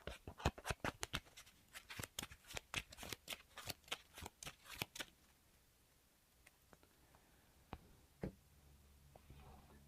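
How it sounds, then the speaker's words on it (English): Playing cards for a Marvel Champions board game are shuffled close by in a quick run of crisp riffling clicks for about five seconds, then a few faint taps and handling sounds. "And then these 3 cards get shuffled in."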